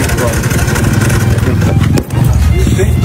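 A Suzuki motorcycle engine running rough, loud and close, with a steady uneven chugging drone that dips briefly near the end.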